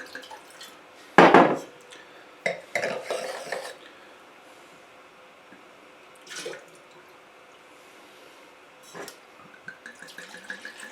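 Wine glasses rinsed with water at a Bordeaux tasting: a sharp splash-and-clink burst, then a longer run of watery rinsing and glassy knocks, followed by a few quieter isolated clinks and drips spaced apart.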